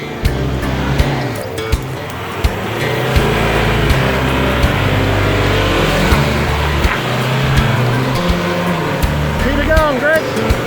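A 4x4 vehicle climbs a steep track in the Victorian High Country, its engine droning and revving loudly throughout with brief clunks, while people talk over it.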